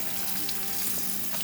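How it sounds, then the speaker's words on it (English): Tap water runs steadily while hands are rinsed off in a home kitchen during banana pudding preparation, making a continuous, even hiss with no talking. "Wash my hands off."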